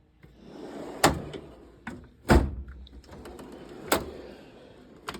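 A metal toolbox drawer slides open and shut in a few sharp, close thumps and rattles with quiet gaps between, no talking.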